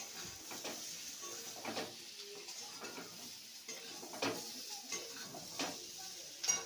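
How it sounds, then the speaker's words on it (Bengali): Rohu fish roe with potatoes and spices gently stirred in a pan, giving soft, quiet scraping and light metallic clinks over a faint sizzle, with no voices. "একটু হালকাভাবে নেড়ে দিই।"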